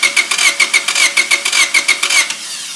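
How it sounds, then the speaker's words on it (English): A car engine cranks over via a remote starter switch, a rapid rhythmic chugging of starter turns about ten times a second for over two seconds, loud and close, then cutting off with no talk. "my engine cranks over"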